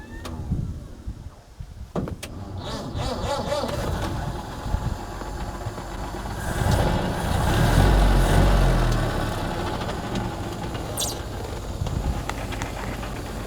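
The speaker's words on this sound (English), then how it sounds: "next we'll turn the ignition key and then press the start button" First-ever Volvo car's engine cranking and settling into a steady idle, a broadband rumble swelling midway and holding close and fairly loud, with a click near the start and no talk.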